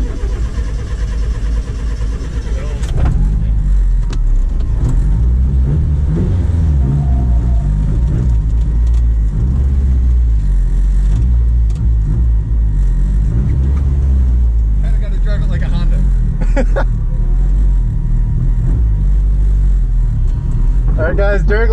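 A car engine rumbles and revs in bursts, loud and close, with people talking over it, at a motorsport event.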